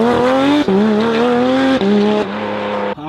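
Porsche 992 GT3 RS flat-six revving hard through a titanium exhaust, a loud, close, sustained high-pitched wail that rises and dips across several throttle blips with brief breaks between them.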